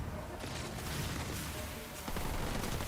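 Sniper rifle fire in the strategy game Halo Wars 2, a few faint cracks buried in a constant wash of battle noise and crowd-like din, low in level throughout.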